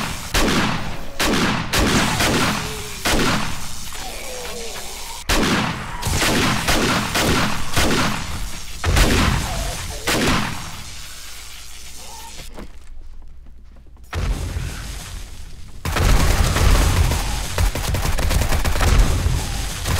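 Shotgun fire in the zombie survival game 7 Days to Die, with repeated loud blasts in quick bursts, a short quiet gap, then heavy sustained noise toward the end.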